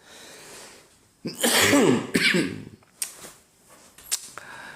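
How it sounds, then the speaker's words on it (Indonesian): A burst of loud, harsh coughing up close, a couple of rough hacks followed by a few shorter, fainter coughs. "batuknya masih bandel ya"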